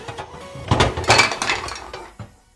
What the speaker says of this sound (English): I'm going to need a pan